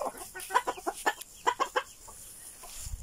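Rooster Petrucha clucks near a Silkie hen and her chicks, giving a close series of short, rhythmic clucks in quick bursts before trailing off into quiet farmyard background.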